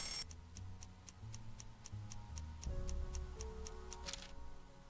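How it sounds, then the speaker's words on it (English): A ticking package in the Nancy Drew video game gives off steady, evenly spaced clock ticks, about three per second, close and clear over a low musical drone. "There's another package and it's ticking."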